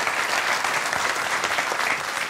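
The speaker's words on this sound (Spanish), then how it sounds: "Un aplauso para Juan." Studio audience applauding a guest named Juan on a Canarian TV music show, a steady, dense wash of clapping filling the whole stretch at even volume, no voices over it.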